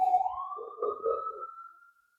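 A single siren wail rises gradually in pitch, then sustains and fades away into silence, heard fairly clearly at a moderate distance with no talking over it.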